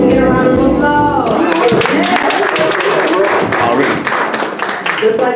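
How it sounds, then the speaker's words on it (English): An audience at a university open mic night breaks into applause after a voice speaks, clapping building into a dense, steady patter of many hands that carries on for several seconds. "Can we get a round of applause?"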